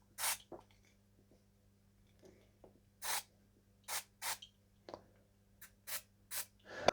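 Short hissing bursts of WD-40 sprayed into the cracks of a stuck Dremel collet, about a dozen quiet irregular puffs, close and faint, with no talking.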